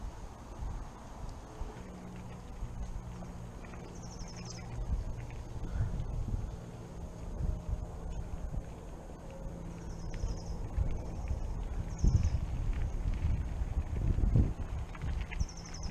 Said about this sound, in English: Breezy. It's nice and cool.